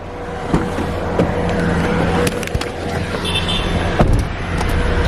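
A car in a small village in Bastar is boarded by several people, bringing a few sharp thumps and door clunks over a steady low idle and rustling movement, close by and fairly loud.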